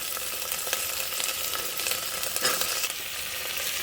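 Peas, carrots and beans fry for kurma in a steady, hissing sizzle, close and moderately quiet, with irregular scrapes and taps of a stirring spoon throughout and no voices.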